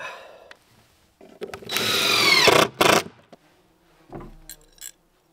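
A cordless power drill with a dying battery whirs in short bursts, loud and close, each spin rising then sagging, with quiet gaps between runs.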